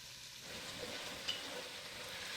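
Aoudad sheep meat browning in oil in a pan for carne guisada: a steady, quiet sizzle and fry with faint stirring, continuous throughout with no voices.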